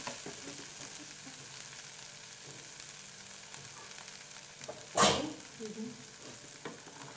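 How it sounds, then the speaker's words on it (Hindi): Tomatoes and onions frying in oil in a pan, a soft steady sizzle with quiet stirring scrapes and one louder clatter midway, no talking. "इसे तब तक पकाएं जब तक के टमाटर भी पक के ऑयल छोड़ने ना लग जाए."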